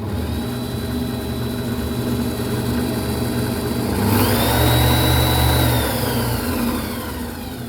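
A drill press driven by a treadmill motor hums steadily with a whining tone, then its pitch and volume rise as it speeds up before settling back toward the end; no one speaks.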